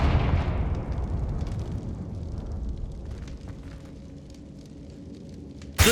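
A Confringo explosive spell blast from the Hogwarts Legacy video game bursts loudly at the start, then rumbles and crackles as it slowly decays, with a sharp new impact at the very end.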